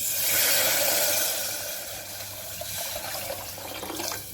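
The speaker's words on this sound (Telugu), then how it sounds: "కావాల్సినంత వాటర్ వేసుకోవాలి" Water is poured into a pot for pongal, a steady rushing splash that is loud at first and then softens into a gentler trickle.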